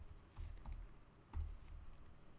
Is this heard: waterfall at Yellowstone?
no